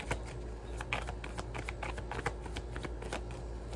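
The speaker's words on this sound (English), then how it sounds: "Three shuffles." Tarot cards are shuffled close up in a quick run of soft riffling flicks and papery slaps, steady and rhythmic, over a low background hum.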